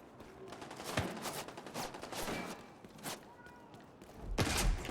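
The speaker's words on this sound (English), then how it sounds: "What's shooting at me?" Gunfire in The Division 2: scattered sharp shots and short bursts, several distinct cracks at moderate distance with a heavier blast near the end, over background game ambience.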